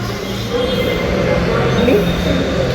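A metro train ride in the evening, heard from inside the car as a loud, continuous rumble and hum with a faint rising wheel squeal, and no voices.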